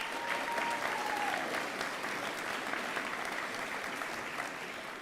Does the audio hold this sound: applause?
yes